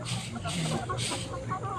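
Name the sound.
chickens squabbling and clucking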